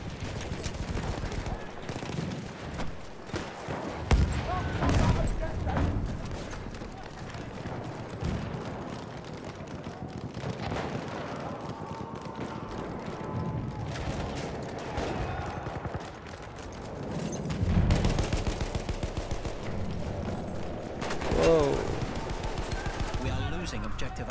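Rapid gunfire and explosive bursts from a Battlefield 1 match played on PC with an Xbox One controller, dense and continuous throughout, with someone talking over the chaotic battle din.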